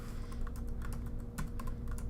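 Quiet, steady clatter of fingers typing code on a computer keyboard, rapid irregular keystrokes close by with a low background hum and no voices.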